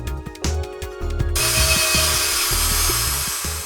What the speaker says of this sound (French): nous utilisons ici une scie électrique